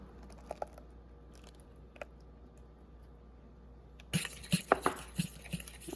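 Ripe bananas and melted butter stirred together for a banana cake, heard as a run of wet clinks and scrapes against a bowl in the last two seconds, after a quiet stretch with a few faint taps.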